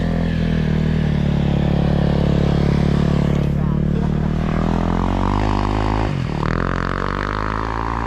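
A kid's dirt bike engine drones close and steady, its pitch climbing gradually, dipping briefly near the end and then revving back up.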